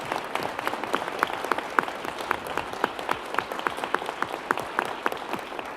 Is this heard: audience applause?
yes